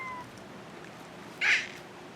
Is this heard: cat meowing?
yes